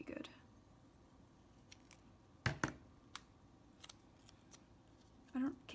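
Scissors snipping through a planner sticker sheet: a few crisp, close cuts, with a pair of sharp snips in the middle and softer paper handling around them, no talk.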